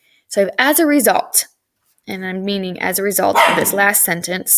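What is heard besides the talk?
dog barking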